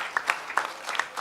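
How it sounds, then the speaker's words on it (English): Applause from a conference audience at a hacker event, heard as a short, fairly quiet patter of scattered claps with a few sharper individual hits, no voices over it. "let's give one big round of applause to them"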